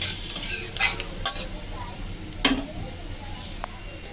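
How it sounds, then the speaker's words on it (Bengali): Panch phoron spices sizzle in hot oil in a pan as they are stirred, a close steady crackle with sharp clinks and scrapes of a utensil. "আর দিয়ে দিচ্ছি 5 ফোড়ন।"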